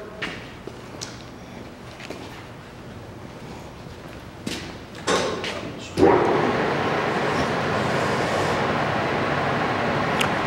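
An Acer Dynamic 29-by-60-inch engine lathe from 2013 starts up after a few scattered knocks and clatters, then settles into a loud, steady broadband whir that runs without a break to the end.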